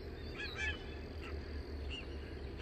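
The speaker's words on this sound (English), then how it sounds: "A lot of geese. A lot of ducks out here." Geese honk in short nasal calls at a park in Tennessee on a warm day, a few scattered honks at moderate distance over a steady outdoor background hum, with no one talking.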